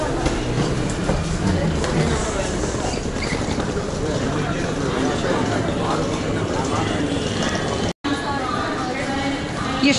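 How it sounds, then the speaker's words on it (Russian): An Indian AC-class overnight express, the Yeshvantpur Express, rumbles steadily along the rails from inside the coach, its continuous clatter carrying under people talking nearby, with a very brief dropout near the end. "У нас ночной поезд."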